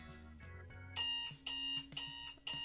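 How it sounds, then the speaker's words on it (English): An old-fashioned mechanical alarm clock rings in loud, bright bursts of metallic bell clatter, starting and stopping several times with short breaks between rings, with no voices. "Yeah, one of those like old alarm clocks."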